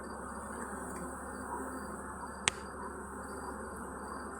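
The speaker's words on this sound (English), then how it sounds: "It just amazes me that I can stand here with all these bees and not get stung once." Bees swarm around an open beehive with a dense, continuous buzzing drone close by, steady throughout, with a single brief sharp tick partway through and no talking.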